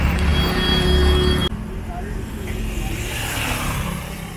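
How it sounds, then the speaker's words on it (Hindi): Heavy road traffic in Shillong, Meghalaya, with a loud idling engine up close at first, then a broad wash of passing vehicles and engine rumble continuing nearby. "ट्रैफिक बहुत ज़्यादा है इधर।"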